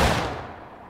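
A musket volley fires in the Civil War video game War of Rights: one loud, close blast of massed gunfire that fades quickly into a lingering echo.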